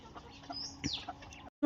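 A few chickens cluck and squawk nearby, one brief rising call standing out, over a faint background murmur.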